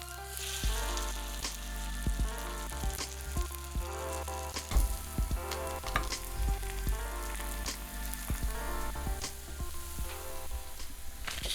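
A pancake fries in a pan with a steady, close sizzle, a continuous crackling hiss with small pops scattered throughout, under faint background music.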